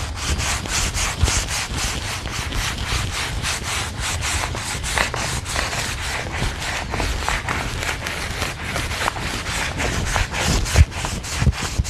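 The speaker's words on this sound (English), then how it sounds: "You want to just lightly sand with that 120p120 sandpaper." A wooden staircase is hand sanded with 120-grit sandpaper in steady back-and-forth scratchy strokes, close and continuous with an even rhythm and no talking.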